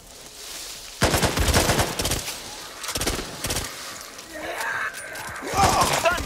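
Assault rifle fire in the zombie shooter Back 4 Blood, loud bursts of automatic shots in several volleys with short pauses between, plus scattered in-game effects.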